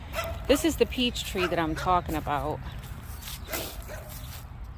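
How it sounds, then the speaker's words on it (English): Dogs barking and yipping outdoors in a yard during a peach tree planting, several short barks scattered in the background under a woman's speech. "So sorry about the dogs."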